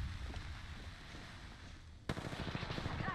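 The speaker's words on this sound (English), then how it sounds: "Oh, I sniped him to death." Sniper rifle gunshots in a video game: a sharp report lands about two seconds in, followed by a burst of rapid crackling shots over constant background game noise.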